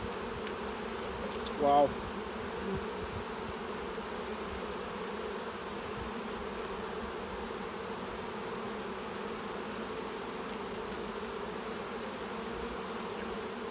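Saskatraz honeybees during a hive inspection, a steady, even drone of many bees buzzing close by throughout, with a brief exclamation from a person early on.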